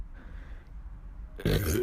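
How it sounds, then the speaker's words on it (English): A single loud, low burp bursts out near the end after a stretch of quiet background murmur. "stop burping"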